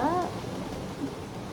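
Steady rain falls outdoors, a soft continuous hiss with a brief tonal chirp near the start.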